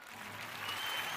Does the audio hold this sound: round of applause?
yes